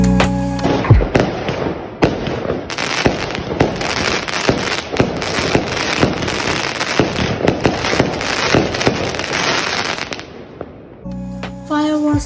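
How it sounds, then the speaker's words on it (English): Fireworks and firecrackers going off in a dense, continuous barrage of sharp crackling pops and bangs for about ten seconds, loud and close, then stopping abruptly with faint tonal sounds after. "Fireworks are so eye-catching."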